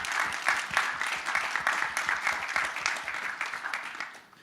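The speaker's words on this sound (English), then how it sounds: "I think it's worth an applause." Audience applause fills a conference hall at a blockchain convention, steady dense clapping from a crowd for several seconds before tapering off slightly at the end.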